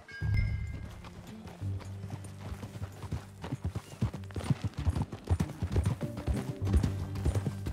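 Horse hooves clip-clop in a steady, close rhythm while riding in Red Dead Redemption 2, growing busier and louder toward the end, with a brief whinny and little talk.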